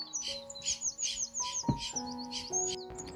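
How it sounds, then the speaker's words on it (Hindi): Birds chirping and tweeting in repeated bright calls on a sunny mountain morning near a hillside home garden, moderately close, with a low steady hum running underneath and no talking. "पंछियों की आवाज़, मधुर आवाज़"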